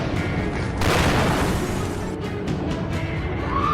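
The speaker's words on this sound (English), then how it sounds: "A loud explosion rocked the plane." A loud, sustained rumbling blast aboard a passenger plane in flight, with broadband roar, swelling sharply about a second in and continuing as a heavy, noisy wash.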